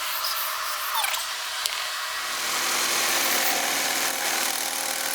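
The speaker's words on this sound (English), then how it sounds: "and then we'll come back and cut it with the router." Router cutting the edge of a veneered wooden circular dining table top, a loud continuous whine that grows rougher and steadier as the bit bites into the wood.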